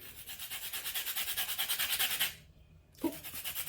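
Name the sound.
zesting a lemon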